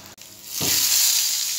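Desi ghee sizzles and spits in a hot pan for a dal tadka, a loud, steady frying hiss that swells suddenly and holds, with no voices over it.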